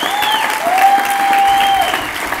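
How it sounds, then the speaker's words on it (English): A crowd applauds, a dense, steady patter of clapping throughout, with a faint whistle or tone sounding over it. "So give yourselves a round of applause."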